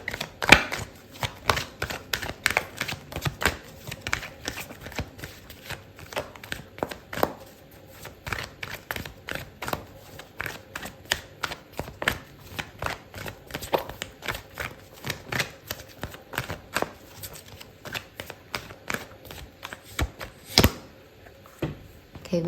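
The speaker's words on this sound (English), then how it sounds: "I'm going to pull out another card for you" Tarot cards are shuffled by hand in a steady run of close, crisp riffling and slapping sounds that repeat with short gaps throughout, with no talk.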